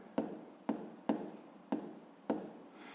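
Pen strokes for a fifth-grade maths exercise land as five short, evenly spaced scratches about half a second apart, close and faint, with no voices.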